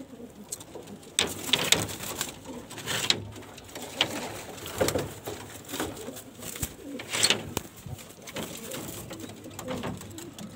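Pigeons coo in repeated soft, throaty calls close by, with scattered rustling and light bumps between them, moderately quiet and without talking.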